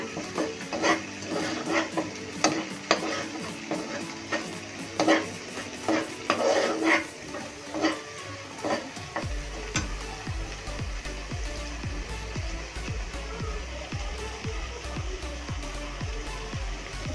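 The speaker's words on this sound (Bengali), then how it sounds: "কিছুক্ষণ নেড়ে নিব।" Chicken leg pieces frying in a pan, with a spatula stirring and scraping in rapid strokes over a steady sizzle, then a deeper, continuous frying hiss as stirring goes on.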